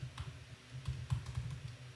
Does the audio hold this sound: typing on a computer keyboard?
yes